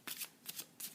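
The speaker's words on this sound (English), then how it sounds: "It's quite smooth to shuffle with that sort of crisp feeling." A deck of Hermes playing cards is shuffled in three quick, crisp riffling bursts, close and clear with short pauses between.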